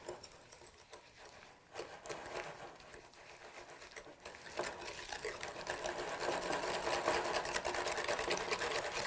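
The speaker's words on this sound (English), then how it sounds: "I will add to that my sugar, and I'll give that a little whisk." Egg yolks and sugar being whisked in a bowl for crème anglaise, a rapid, steady metallic scraping patter that builds louder and denser over several seconds with no talking.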